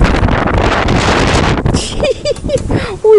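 Strong gusting wind roars across the microphone outdoors beside a greenhouse, loud and continuous. It drops briefly midway, and then a voice speaks over the lighter buffeting.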